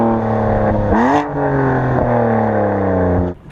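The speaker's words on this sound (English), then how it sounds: "We've got Dinan cans and a Remus straight pipe mid pipe with active exhaust" A BMW M4 with Dinan intake cans, a Remus straight-pipe mid-pipe and active exhaust revs hard, its loud deep engine tone rising and then holding, with a sharp blip and a drop-off near the end.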